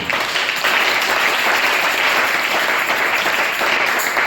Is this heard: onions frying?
no